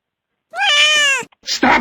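A cat stuck in a toilet lets out one loud, drawn-out meow close by, followed by a brief rough cry after a short gap.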